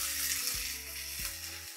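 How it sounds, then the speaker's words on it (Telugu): Ginger garlic paste crackles in hot oil for a bagara rice tempering, a close, steady sizzle over a low, wavering hum, with no talking. "కొంచెం అల్లం వెల్లుల్లి పేస్ట్ తాలింపులో వేసుకొని కలుపుకోవడం"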